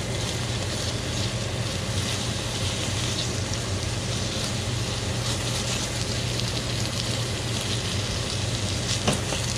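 Snapper fillets fry in olive oil with a loud, continuous close sizzle and hiss that holds steady throughout, broken by one faint click near the end, with no talking.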